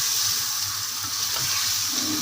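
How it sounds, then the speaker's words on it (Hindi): Dasti-cut mutton pieces frying in a pot with ginger, garlic and onion for aloo gosht, a steady hissing sizzle close up and fairly loud, continuous with faint stirring scrapes underneath. "अब इसको थोड़ी देर भूनूँगी ताकि इसके अंदर थोड़ी गोश्त की निशान निकल जाए, पानी निकल जाए"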